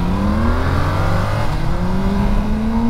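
Loud, steady engine drone of a car overtaking on the road, with rising tones as it accelerates past, close and continuous for the whole stretch, no talking.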